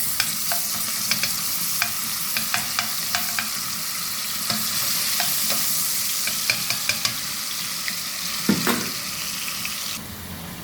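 Garlic sizzling in ghee in a pan for Egyptian-style black-eyed peas, a steady frying hiss with scattered sharp clicks and scrapes of a spoon stirring, close and continuous.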